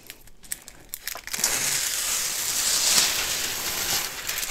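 Plastic wrapping from a diamond painting kit crinkles and crackles as it is crumpled and pulled away, starting with a few light rustles and then swelling into a continuous loud, close crunching.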